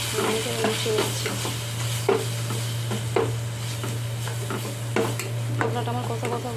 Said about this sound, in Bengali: একটুখানি হলুদের গুঁড়ো, লঙ্কার গুঁড়ো একটু আর জিরের গুঁড়ো একটু দিয়ে ভালো করে এটা মিশিয়ে নিচ্ছি